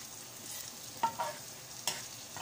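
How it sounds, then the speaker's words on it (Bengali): Bitter gourd (karela) frying in a pan is stirred with a few sharp scraping clanks of a spatula over a soft, faint sizzle, close by with no voices. "আমি ভাজিটাকে আবারও নেড়ে দিব।"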